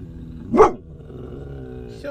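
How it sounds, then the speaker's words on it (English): A dog lets out a single loud bark amid low growling, close by, while a person talks over it. "Why are you so mean? You're supposed to be a good dog."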